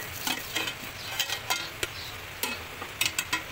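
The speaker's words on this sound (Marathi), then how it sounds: "आता आपण झाकण काढून पाहूया" Sandge curry in tomato gravy sizzles in oil in a pan, with close scraping stirs and clinks as the lid comes off, a steady fry bed under a string of sharp taps, no talking.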